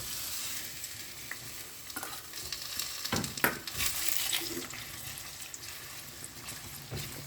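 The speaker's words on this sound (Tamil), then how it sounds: "சட்டியில் எண்ணெய் சூடாயிடுச்சு. 2 செராய், பெரிய வெங்காயம் 1 டவுன் பண்ணுறேன்." Two stalks of lemongrass and a large onion hit hot oil in a pan, giving a bright crackling sizzle with several sharp stirring scrapes and splashes in the middle.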